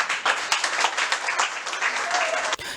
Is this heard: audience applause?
yes